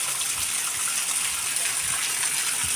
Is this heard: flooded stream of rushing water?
yes